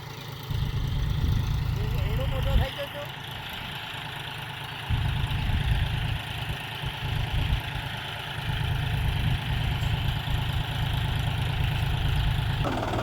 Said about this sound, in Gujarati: તમે જોઈ રહ્યા છો કે ટ્રેક્ટરની એની સ્પીડથી એ વાવેતરથી અહીં આવી રહ્યું છે